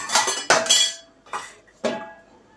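A metal lid is set on a cooking pot of simmering jackfruit and mutton curry in a home kitchen, giving four ringing metallic clanks, two close together, then two more spaced apart, each fading with a short resonance.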